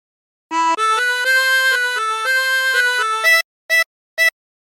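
A 24-hole tremolo harmonica plays a phrase of Bella Ciao: a run of clear, sustained blown and drawn notes, then three short separate notes, close and alone.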